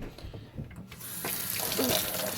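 Hot water from a kitchen sink tap pouring into a bowl, first a few clinks and handling sounds, then a steady rushing flow that builds and holds close to the microphone.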